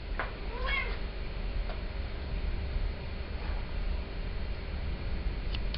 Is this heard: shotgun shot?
no